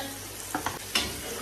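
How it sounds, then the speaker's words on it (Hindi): Chicken for pulao fries in a pot, a faint soft sizzle broken by a few quick stirring scrapes. "ये देखिए, ये हमारा चिकन जो है ये फ्राई हो रहा"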